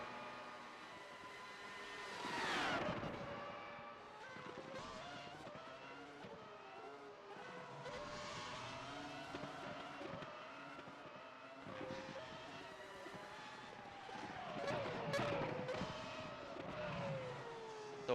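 Race cars lap Sandown during qualifying, their engines rising and falling as they pass by, some near and loud and others farther off and fainter, with skidding whines over a steady background.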